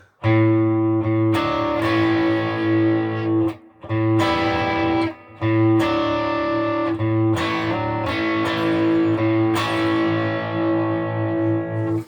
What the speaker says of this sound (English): That has to be one of the most useful basic core tones of any pedal I've ever played.